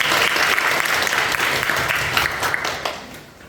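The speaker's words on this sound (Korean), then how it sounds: "좋은 질문인데 박수 한번 부탁합니다." An audience at a Sunday lecture-style Q&A session bursts into applause, a dense, even wash of many clapping hands that holds strong and then gradually tapers off toward the end.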